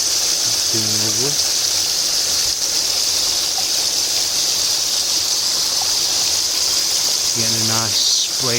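Water sprays and crashes steadily inside an IBC tank, a dense continuous rushing roar throughout, with a couple of brief squealing tones rising above it near the start and end.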